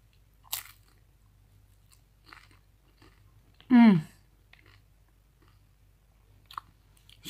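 Crunchy food with juicy meat bitten and chewed close to the microphone during a mukbang: one loud crisp crunch midway, with fainter bites and soft chewing around it and brief voice sounds.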